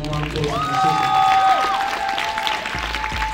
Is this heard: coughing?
no